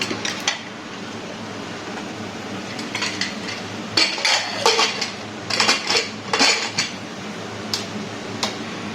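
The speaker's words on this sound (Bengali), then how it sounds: "এখন কড়া থেকে মাংসটা একটা প্রেসার কুকারে শিফট করছি।" Metal clatter and scraping as mutton for a Kolkata-style biryani is moved from a pan into a 5-litre pressure cooker, with sporadic clinks and knocks, close by and without speech.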